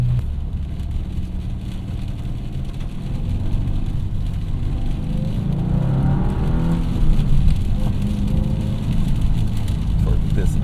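A 2024 Subaru WRX TR engine drones steadily from inside the cabin while driving on wet roads, with low rumble, tyre hiss and a gradual rise in revs.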